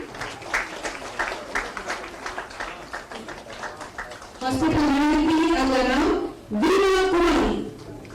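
Applause from an audience at a ceremony where appointment letters are handed out for health services, scattered claps first, then a loud amplified voice over a PA cutting in and mixing with the clapping.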